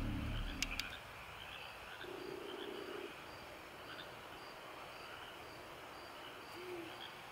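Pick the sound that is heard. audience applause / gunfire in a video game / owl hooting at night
owl hooting at night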